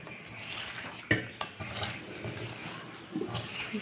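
Spiced meat being kneaded and mixed by hand for a Bengali meat curry, giving soft, wet squelching and rubbing with a few sharper clinks of a bowl or pot, fairly quiet and close, with no talking.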